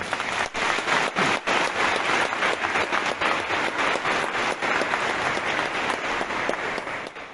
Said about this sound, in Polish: Możemy oddać chwałę Jezusowi też oklaskami.